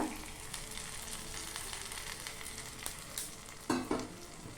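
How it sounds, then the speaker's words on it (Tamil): Browned tempering poured into a Tamil kuzhambu, a continuous crackling sizzle with scattered pops and a louder splash and hiss near the end, no talking. "தாளிப்பு ரெடி ஆயிடுச்சு, போட்டுடலாம் குழம்புல."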